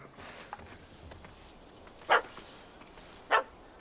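A dog in The Witcher 3 gives two short, sharp barks a little over a second apart, standing out from quiet game ambience.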